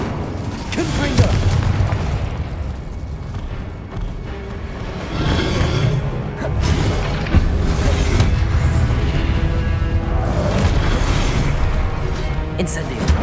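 Fire and explosion spells, Incendio and Confringo, cast in Hogwarts Legacy: repeated booming blasts and crackling bursts at uneven intervals, loud and close, with a voice speaking throughout.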